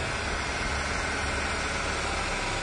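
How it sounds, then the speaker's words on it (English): A 1997 Ford truck engine idling roughly, with a dense, steady broadband rumble and hiss, continuous and close, no talking. "this truck is really idling bad right now"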